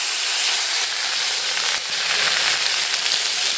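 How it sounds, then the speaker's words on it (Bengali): Onion paste sizzling and frying in a pan for doi katla, a steady loud hiss of hot oil throughout, no voices. "পেঁয়াজ বাটাটা দিয়ে আবার ভালো করে কষিয়ে দিচ্ছি।"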